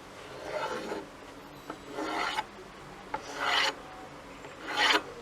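Four rasping scrapes of a knife drawn across sweet Jaffna-style sippi dough on a board, each lasting about half a second, with short pauses in between.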